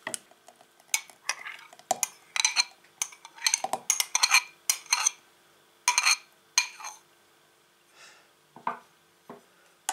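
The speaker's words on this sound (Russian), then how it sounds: "Все это перемешиваем." Irregular clinks and scrapes of a utensil stirring a kefir-banana mixture with rolled oats in a bowl, close up, in quick clusters with short pauses.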